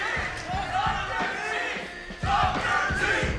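Tournament crowd cheering and shouting for Dr. T during a PS1 Mystery Vs. finals, a busy wash of voices with several louder swells, the last one near the end.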